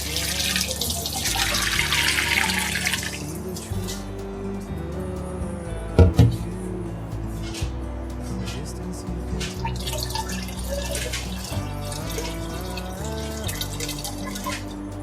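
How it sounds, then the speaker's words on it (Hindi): Water poured over cumin seeds to wash them gives a splashing, trickling stream with a sharp splash partway through, over a steady low hum. "अब इसमें मैं थोड़ा सा और पानी डालूंगी।"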